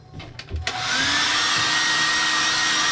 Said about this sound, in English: I'll grab a hair dryer,